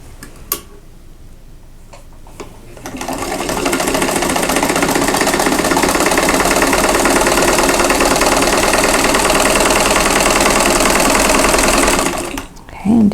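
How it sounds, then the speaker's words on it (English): A sewing machine stitches fabric along a diagonal line, starting after a few faint clicks and running as a loud, steady, fast mechanical whir for about nine seconds before stopping abruptly. "I'm going to line these up and sew right on that diagonal line"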